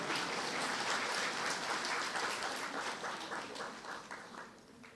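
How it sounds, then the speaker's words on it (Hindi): Audience applause fills a spiritual talk, a dense, steady wash of many hands clapping that gradually thins and fades toward the end. "तालियां बजाओ ना जरा मेरे लिए।"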